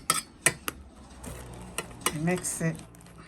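Oil is mixed into gari for roadside Zongo waakye, with a few sharp utensil clinks and scrapes followed by softer stirring and rustling, close up, as a voice talks briefly over it.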